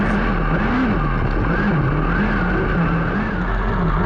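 Pack of USAC Western States midget race cars taking the green flag at Santa Maria Speedway in California, engines roaring loud and steady with rising and falling pitch, close by, without talk.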